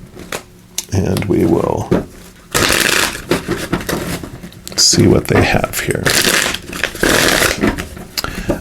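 Tarot cards being shuffled in bursts of riffling and crackling, close and fairly loud, alternating with a person speaking.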